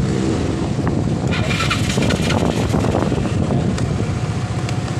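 A Yamaha Mio Sporty scooter with a charging fault starts and keeps running, giving a loud, steady engine rumble close by that stays even throughout.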